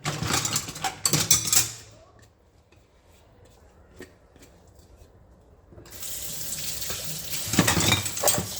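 Dishes being washed at a sink with running tap water, splashing and clinking in loud bursts at the start and end, separated by a quiet stretch of a few seconds.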